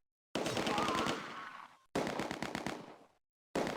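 Bursts of machine gun fire in the World War II tactics game Close Combat: A Bridge Too Far, set at Arnhem Bridge during Operation Market Garden. Two long, loud, rapid-fire strings of shots are separated by short silences, and a third burst begins at the end.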